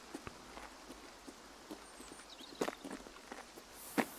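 A footstep on or near a road in Escape From Tarkov, faint scattered light steps at a distance against a quiet background, with no talk.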